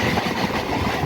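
A passenger train on the Canning line draws into Matla station, its wheels rumbling and clattering loudly and steadily, close by, with no voices.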